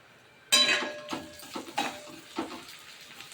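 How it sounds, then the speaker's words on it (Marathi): Onion frying in a pan with asafoetida for upma, a sudden close sizzle that bursts out loudly, then settles into a crackling hiss with a few stirring scrapes and smaller sizzle swells. "मोठा कांदा टाकून घेतला कांद्याला चांगला फ्राय करून घेते"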